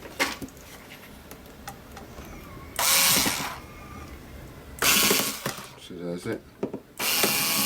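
A screw is driven into a tin lid with a power driver, in several short mechanical whirring bursts separated by pauses, while a person talks quietly in between.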